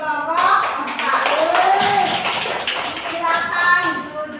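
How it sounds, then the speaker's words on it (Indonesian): A classroom of students claps for a group of classmates, an uneven patter of hands mixed with children's voices and chatter running over it throughout. "Tepuk tangan untuk kelompok 4."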